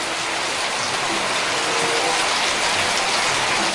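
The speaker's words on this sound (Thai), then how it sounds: "ฝนตกแล้ว" Steady rain falls with a dense, even hiss that never lets up, fairly close and loud, with no talking over it.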